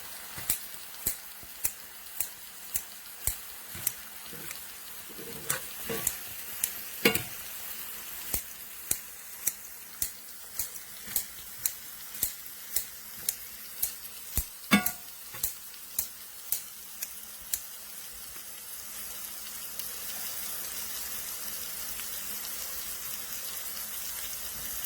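Wet greens hiss gently in a warm skillet, a steady soft sizzle broken by regular crisp ticks and pops that fade out near the end.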